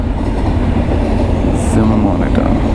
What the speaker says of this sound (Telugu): వావ్, ఇది చాలా పెద్ద ట్రైన్ ఇది